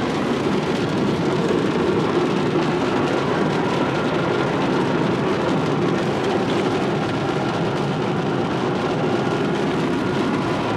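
Steady rain drums continuously on a car's glass roof overhead, a dense, even patter that fills the whole stretch without pause.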